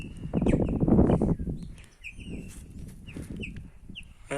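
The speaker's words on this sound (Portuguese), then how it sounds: "Pássaro preto cantando, ó." A chopi blackbird (pássaro preto) sings outdoors in the countryside under a cloudy sky. Short whistled and chirping phrases stand out over a rustling, clucking farmyard background.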